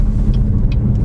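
Muffled low road and engine drone inside a Chevrolet Malibu while driving, a steady close rumble with faint tyre and wind hiss, no talk.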